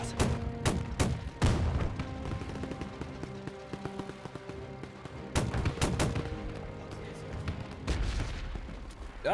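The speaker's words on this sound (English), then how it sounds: "Now the artillery's actually opening up on us." Artillery fire in the World War II strategy game Men of War II, with a handful of heavy booming impacts spread across the stretch over sustained rumble and scattered gunfire.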